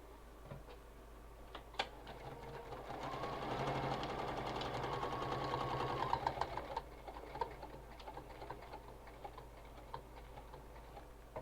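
Domestic sewing machine slowly stitching a zipper onto a zip-around wallet, a soft, rapid mechanical ticking that builds into a steadier whir mid-way, then slows to scattered stitches, close and fairly quiet.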